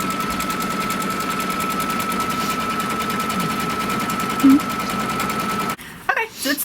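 A computerized embroidery machine stitches the final construction line of a stipple quilt with a rapid, steady mechanical chatter that runs continuously, then stops abruptly near the end.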